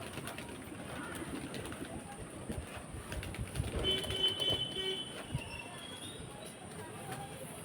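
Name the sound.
pigeons cooing while being fed wheat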